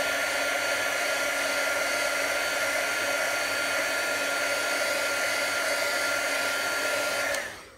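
Heat tool blowing steadily to dry stamped ink on paper, a loud continuous whooshing hum held close for several seconds, then switched off and winding down at the end.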